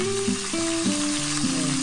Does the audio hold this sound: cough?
no